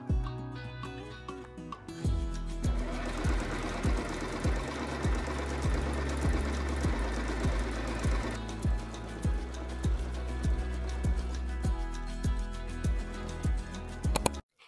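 A sewing machine runs steadily on a knit fabric blouse, a loud close mechanical whir with a regular thumping stitch rhythm that rises in intensity midway and stops abruptly at the end.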